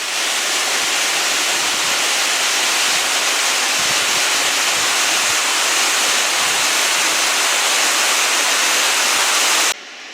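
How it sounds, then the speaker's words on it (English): A waterfall pours into a gorge beneath a suspension bridge in Scotland, making a steady, dense roar of rushing water that holds unbroken before cutting off abruptly at the end. "looking back at the suspension bridge with the waterfall underneath"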